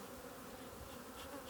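Bees buzzing in a steady, droning swarm at a heather honey hive being smoked, close and continuous for a short moment with no voices.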